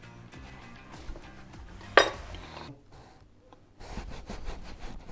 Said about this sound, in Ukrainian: Чудові оливки розріжемо навпіл і теж додамо до шашличку.